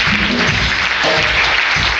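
Church congregation at a pastor's anniversary service applauding and cheering loudly, a dense continuous wash of clapping and crowd noise with low rumble beneath.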